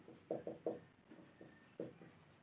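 A pen writes on paper while a maths solution is worked out, giving soft, quiet strokes in uneven bursts with no voice present.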